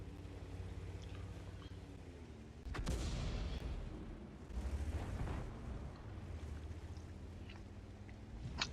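Artillery fire in the World of Tanks video game, with an M46 tank in play: two heavy low booms land a couple of seconds apart over a steady engine rumble, loud and close with no talking.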